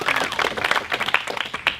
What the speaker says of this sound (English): these 4 guys need a special round of applause